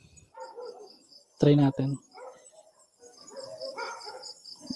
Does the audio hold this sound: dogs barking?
yes